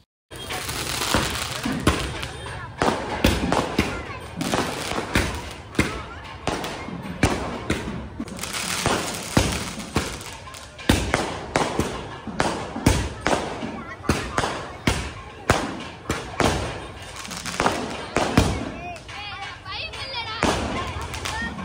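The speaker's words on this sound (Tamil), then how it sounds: "இந்த மாதிரி லைட்டாக அந்த கிராக்கர்ஸ்லாம் வந்து வெடிப்பாங்க. மேலே போய் வெடிக்கும்ல" Firecrackers launched at a temple festival burst overhead in a long, irregular barrage of loud cracks and thumps, some in rapid clusters, with people talking underneath.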